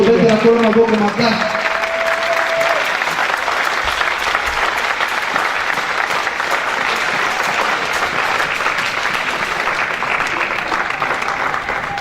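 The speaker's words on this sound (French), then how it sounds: "Est-ce qu'on peut acclamer très fort?" Loud, sustained applause and cheering from a large congregation at a church seminar, a dense wall of clapping that swells after a brief voice at the start and carries on for several seconds.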